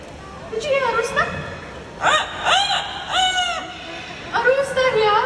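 An Amazon parrot at a bird park imitates a rooster, giving several drawn-out crowing calls in bursts at moderate distance, with crowd noise and light talk in the background.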